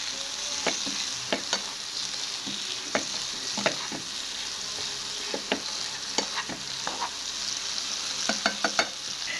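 Bean sprouts stir-fried in a pan give a continuous close sizzle, broken by irregular sharp taps and scrapes of a spatula against the metal, with no talking.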